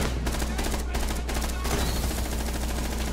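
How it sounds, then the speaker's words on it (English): Video game gunfire: loud, dense bursts of rapid automatic shots in the first half, followed by continuous rumbling noise. "Shoot it up. Shoot it up. Shoot it up."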